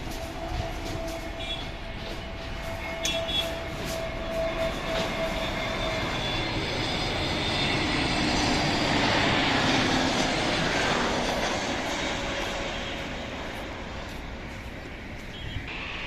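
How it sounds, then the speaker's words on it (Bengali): A fixed-wing airliner approaches to land at Dhaka airport on a foggy morning in Uttara, its engine roar building steadily, swelling loudest in the middle and then easing off toward the end, heard from a distance with no talk. "শব্দ শুনতে পাচ্ছি, খুবই দ্রুতই এই বিমানটি আমাদের ক্যামেরায় চলে আসবে।"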